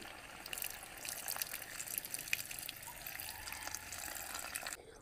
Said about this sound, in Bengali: এইভাবে নাড়াচাড়া করে জল দিয়ে দেব।